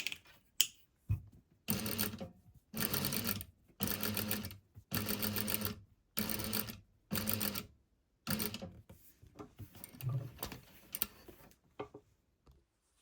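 A sewing machine runs a basting line in short bursts, about eight stitching runs of roughly a second each separated by brief pauses, close and clear with a rapid mechanical rattle.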